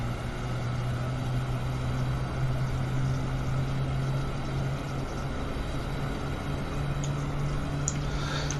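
A GE90 engine on a PMDG 777-300ER in Microsoft Flight Simulator spins up, giving a steady low drone with a faint high whine that holds fairly constant, with no voices.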